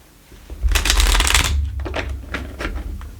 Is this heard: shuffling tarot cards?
yes